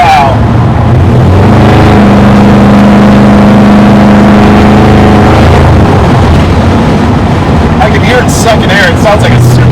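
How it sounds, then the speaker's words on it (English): A Skip White Performance 383 small-block Chevy V8 in a muscle truck roars loud and close, holding a strong steady drone before revving and sucking air, with excited voices over the engine. "Sucking air, it sounds like a supercharger almost."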